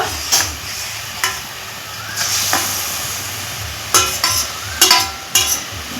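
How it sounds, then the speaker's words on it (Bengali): Fried pabda fish drops into a bubbling mustard gravy in a pan, with a low simmering hiss broken by several sharp clattering splashes and bursts of sizzle, close by and without speech. "এখন আমি ঝোলটা ফুটিয়ে নেব ঝোলটা ফুটে গেছে এখন আমি ভেজে রাখা মাছগুলো দিয়ে দেব"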